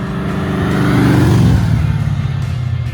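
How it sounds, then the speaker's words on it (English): A Chevrolet Malibu engine fitted with a new ignition system and hotter coil, running close by with a steady, throaty idle that swells in a brief rev and then settles back to idle. "The engine feels and sounds much peppier with the new ignition system and a hotter coil"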